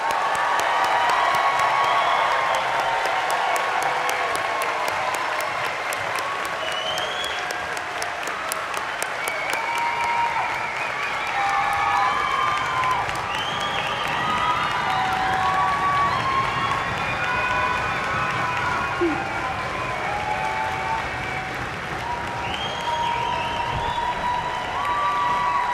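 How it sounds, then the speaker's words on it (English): Sustained applause from a large commencement audience honoring graduates, steady clapping with scattered cheers and whoops filling the hall for the whole stretch, fairly distant and even. "Let's recognize all of today's graduates with a round of applause."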